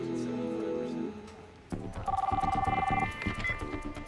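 A telephone rings indoors in a TV drama scene, producing a burst of repeated electronic ring pulses that follow a voice and overlap with further sound.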